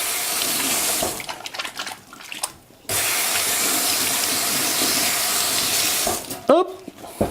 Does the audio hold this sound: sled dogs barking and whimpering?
no